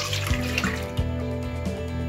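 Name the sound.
pouring milk into a pot for Kashmiri pink tea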